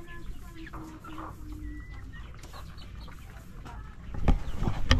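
Rhode Island Red rooster and hens cluck in a coop on a rainy day, scattered clucks and short calls rising to a louder burst of activity near the end.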